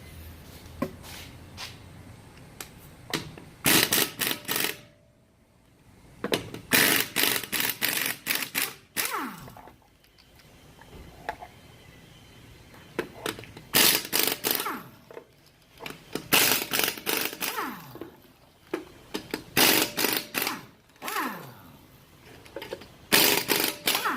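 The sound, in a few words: removing lug nuts from a Ram Promaster City wheel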